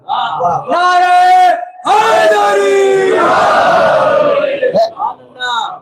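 A crowd at a Shia majlis-e-barsi memorial gathering chants a religious slogan in loud, massed voices, with two strong call-and-response bursts followed by a fading rumble of voices.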